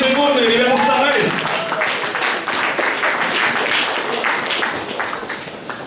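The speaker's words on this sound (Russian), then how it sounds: "Аплодисменты бурные, ребята старались." A KVN comedy contest audience bursts into vigorous applause as the teams are called onstage; loud, dense clapping follows a brief sung phrase and fades slightly toward the end.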